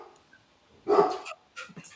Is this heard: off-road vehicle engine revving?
no